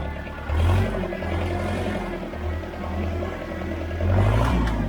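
Tractor engine ploughing a weedy, difficult field, a steady low rumble that swells into louder revs near the start and again toward the end, mechanical clatter riding on top.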